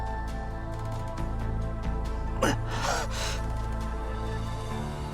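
A sharp intake of breath from a character in the visual novel Fate/Stay Night, a single gasp in the middle of the clip over a steady hum of background music, with no talk.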